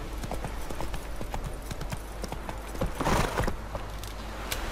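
Horse hooves clip-clopping in The Witcher 3, a quick, steady run of hoofbeats at moderate distance, with a brief neigh and a low game ambience beneath.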